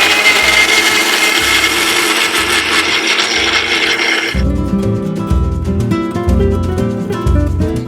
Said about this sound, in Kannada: ಈಗ ಇದನ್ನ ಮಿಕ್ಸಿ ಜಾರನ್ನ ಕ್ಲೋಸ್ ಮಾಡಿ ನಾವೊಂದು ಜ್ಯೂಸ್ ಆಗಿ ಮಾಡ್ಕೊಳ್ಳೋಣ.